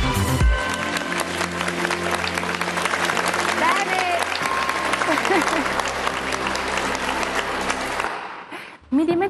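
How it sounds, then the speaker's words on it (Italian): Studio audience on an Italian TV cooking show bursts into sustained, loud applause that carries on for several seconds before dying away at the end. "Mi dimentico sempre che devo aspettare gli applausi."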